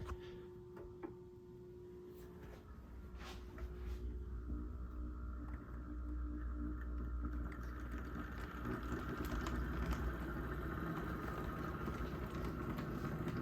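An HO scale model train locomotive in a Conrail scheme running at half power on a home layout, a low steady motor hum with faint clicking that gradually grows louder.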